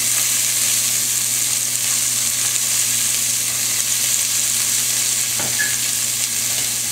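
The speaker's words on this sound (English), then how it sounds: "we're going to add our mirepoix. Our diced celery," Diced celery, carrots and onion sauté in a pot as a mirepoix for braised lamb shanks, giving a steady, even sizzle and crackle that holds throughout, close and fairly loud, with a brief stirring scrape near the end.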